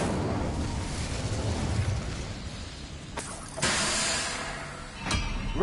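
A spell-casting whoosh of the Incendio fire spell in the video game Hogwarts Legacy: a roaring, hissing burst of flame with a couple of sharp bright flares near the end, fairly loud and alone.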